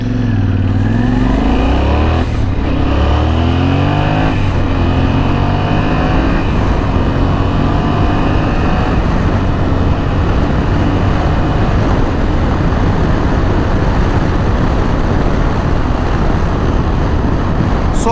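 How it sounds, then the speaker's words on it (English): A Yamaha Tenere 700 adventure motorcycle accelerating hard, its engine climbing through rising revs and gear changes under constant loud wind rush, heard from the rider's position with no talking. "let me accelerate now so you will have an idea what the power is"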